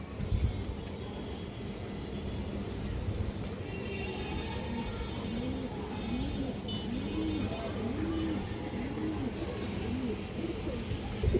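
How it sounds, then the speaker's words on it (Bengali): Pigeons, including a black-necked female, coo in a run of soft repeated rising-falling calls close by, with someone talking over them and occasional wing flutters. "মাদিটা কালো গলা কৌতর"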